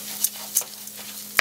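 Risotto rice being stirred and toasted in oil in a pan gives a few scattered scrapes and soft sizzling clicks over a low steady hum, ending on a sharper scrape.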